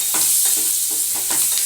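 Chopped big onions and curry leaves sauté in hot oil in a pan, a constant close sizzle broken by periodic stirring scrapes about every quarter second, with no talking.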